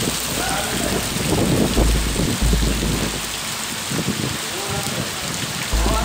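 Heavy torrential rain falls on flooded streets in Bacabal, Brazil, during carnival: a loud, continuous roar of drops hitting water and pavement, with faint low rumbles underneath.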